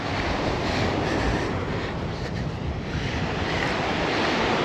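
Wind on a Puget Sound beach at high tide on Marrowstone Island, a loud, constant roar of gusting wind buffeting the microphone, mixed with surf, continuous throughout with no voices.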